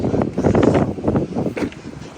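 Wind blows across the microphone outdoors on a windy coast, a steady, close, buffeting rumble with gusts rising and falling and no voices.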